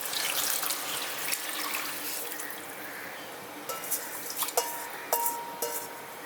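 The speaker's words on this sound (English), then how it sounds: "So I'm adding water now." Water runs from a tap into a cooking pot with rice stuck to its base, a steady broadband splashing stream with a few metallic clinks near the end.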